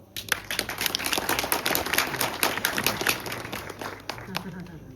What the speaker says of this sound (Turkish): Bu arkadaşlarımızla bir alkışlayalım.